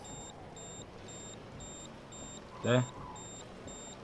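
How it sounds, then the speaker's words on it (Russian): Repeating two-tone low-fuel warning beep in a truck cab from a trucking game, steady short pips at regular intervals throughout, with a brief spoken word partway through. "Пищит бензин, как я понимаю."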